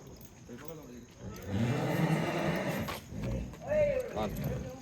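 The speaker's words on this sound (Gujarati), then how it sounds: "ઘોડાનો તમારો અવાજ સંભળાતો જ હશે" Horses snort and whinny close by at night, with a clear neigh near the end, amid a busy, noisy background.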